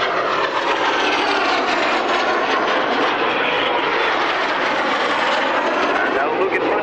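Jet display aircraft crossing in a roll at the Woodford Airshow, a loud continuous engine roar filling the air without letup, with a commentator talking over it.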